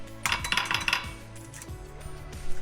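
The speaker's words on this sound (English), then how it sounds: "I'm gonna take some eggs, and I'm gonna crack them in here" Eggs are cracked into a bowl in a home kitchen, producing a cluster of sharp clinks and taps at the start, followed by softer knocks, close by with no talking.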